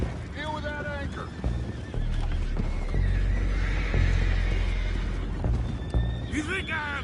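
Horses in the video game Red Dead Redemption 2 whinny and neigh loudly under hoofbeats and a noisy action scene, with overlapping voices heard through the commotion.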